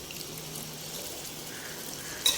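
Water poured lightly into a pan of prawn thokku, a soft steady trickling hiss that stays even, ending with a brief faint clink.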